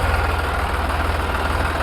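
A tractor engine idles on a village farm, giving a continuous low, even throb close by with no talking.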